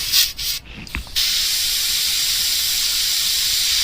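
A steady, loud hiss of an airbrush spraying paint onto a paper business card runs continuously after a few brief rustles at the start.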